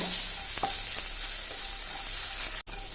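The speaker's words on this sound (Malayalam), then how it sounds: "അതും കൂടെ ചേർത്തൊന്ന് ചെറുതായിട്ടൊന്ന് സോട്ട് ചെയ്യുവാണ്" Garlic rice masala with freshly chopped coriander leaves sautéing in a pan, a loud, even sizzle with a few light stirring clicks throughout and a sharp break near the end.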